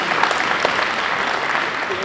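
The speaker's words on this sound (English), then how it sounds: "if we could do a round of applause" A high school varsity jacket night crowd gives its student athletes a short burst of dense, steady applause that fills the room.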